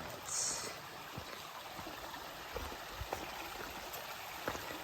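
A creek runs steadily over rocks along a hiking trail. The water makes a continuous close rush with faint trickles and a few small splashes, and no one speaks.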